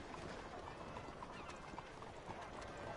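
A horse's hooves clip-clop at a steady walking pace in the Red Dead video game, soft and somewhat distant under a constant background hiss, with no talking.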